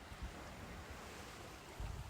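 Gentle ocean waves wash over a sandy shore at night, a steady soft surf hiss with low rumbling swells rising near the start and again toward the end.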